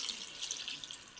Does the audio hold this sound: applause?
no